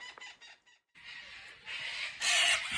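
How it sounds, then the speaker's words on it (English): Morning dawn chorus of roosters and birds, clucking and crowing calls that rise in strength toward the end, heard outdoors at moderate distance with no talking. "I thought you might like to hear the dawn chorus we're greeted by in the morning."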